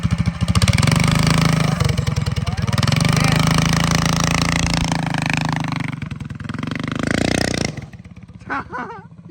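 Big Block Baja Warrior mini bike engine revving loudly up close, a sustained throbbing drone that rises and falls with throttle, then cuts back near the end as a voice speaks over it.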